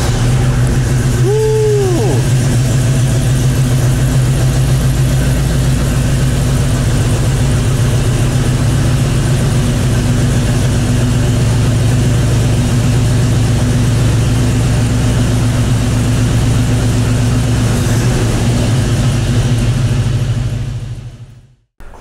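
A 1972 Chevrolet Cheyenne C10 pickup truck engine idling close by, a steady, loud, low-pitched rumble with one brief rev early on, holding evenly before cutting off at the end.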